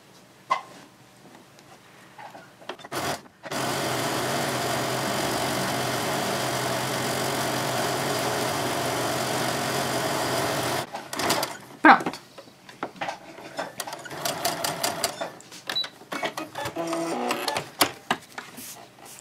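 Sewing machine stitching along the edge of a diaper bag strap, a loud steady whirring run of about seven seconds, followed by short stop-start bursts and clicks as the fabric is adjusted.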